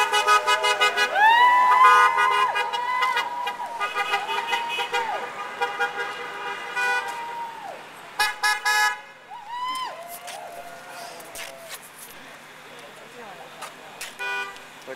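A car horn honking repeatedly at a No on 8 rally, several near, loud toots in bursts of varying length with gaps between, over faint background noise and distant crowd.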